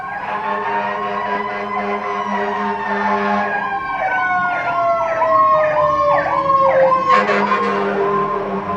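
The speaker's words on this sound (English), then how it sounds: "I think that's a fire truck" A loud fire truck siren wails nearby as it passes, its rising and falling tones sweeping repeatedly, with a rumbling engine beneath and a sharper horn-like burst near the end.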